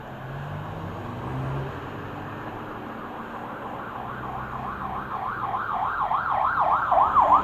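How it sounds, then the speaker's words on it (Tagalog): An ambulance siren wails in heavy traffic, its rising and falling tone growing steadily louder as it approaches over the hum of road noise. "Ayun oh, ambulansya na naman oh."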